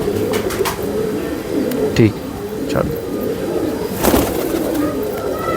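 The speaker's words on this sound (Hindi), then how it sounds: "शानदार कबूतर हैं" Soft, repeated low cooing of pigeons mingles with someone talking, with occasional wing flutters and clicks nearby.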